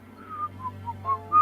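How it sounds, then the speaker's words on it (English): Someone whistles a short, wavering tune of a few soft notes over a low steady hum, with no talking. "Don't forget to whistle and everything will work out in the end"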